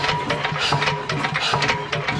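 A 6hp CS Lister diesel engine having oil pumped through it, giving a close, steady mechanical chugging with rhythmic clicking pulses and no talking.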